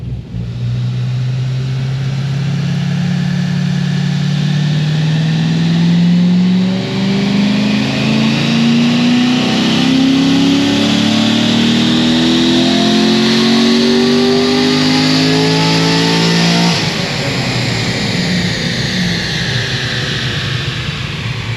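A Corvette C6 Z06 engine on a dyno pull, roaring loud and close as the revs climb steadily over about seventeen seconds before the throttle cuts and the note drops away.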